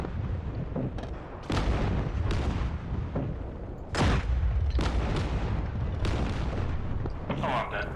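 Aircraft cannon fire in the DCS combat flight simulator: dense, loud bursts of booming gunfire recur several times, heavy and continuous, with people talking over it.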